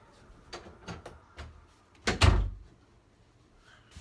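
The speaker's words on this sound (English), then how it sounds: "let me close my door" Someone closes a room door: a few soft knocks and handling taps, then a loud latching thud partway through, after which the room falls quiet.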